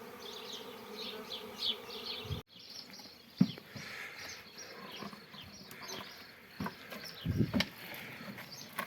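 A swarm of honey bees buzzing outdoors near a hive, a dense continuous drone with a sharp knock early on and a few bumps and scuffs later, no talk.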